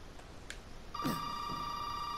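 A telephone rings inside the Resident Evil 7 horror game, a steady electronic tone starting about a second in and holding to the end, fairly faint over a low background hum.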